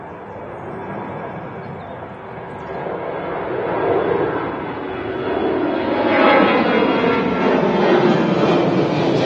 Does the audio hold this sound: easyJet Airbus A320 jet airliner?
yes